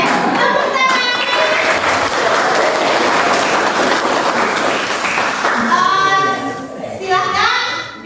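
Classroom of children applauding at the end of a lesson activity, loud dense clapping sustained for several seconds, then thinning as young voices chatter and call out.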